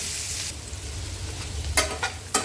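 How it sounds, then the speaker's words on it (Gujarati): Finely chopped onion tipped into a pan where garlic and bay leaf fry golden, for a dhaba-style kaju masala: a hissing burst, a quieter simmer, then a few sharp crackling sizzles near the end. "હવે આપણે ડુંગળી નાખીશું ઝીણી સમારેલી હતી તે"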